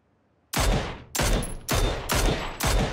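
Rifle shots from a Mini 14 in the battle royale game PUBG: five loud, evenly spaced single shots about half a second apart, each with a sharp crack and a decaying tail, following a brief near-silence.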